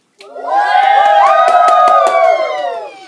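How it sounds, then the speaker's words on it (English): A group of people responds to a call for a wild cheer with loud, sustained cheering and shouting in many overlapping voices. The noise rises sharply, holds strong for about two and a half seconds, then fades. "Give me your best wild cheer."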